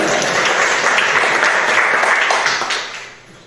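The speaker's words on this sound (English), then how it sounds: "give yourselves a round of applause" Audience applause for the debut of a new historical talk program, a dense, steady wash of clapping that fills the room before tapering off at the end.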